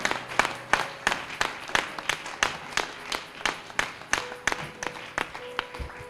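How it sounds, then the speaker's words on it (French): Church congregation applauding in praise of the Lord, a fairly distant, rhythmic round of clapping with sharp regular beats repeating across the whole stretch, quiet overall. "Acclamons plus fort pour le Koleti Seigneur."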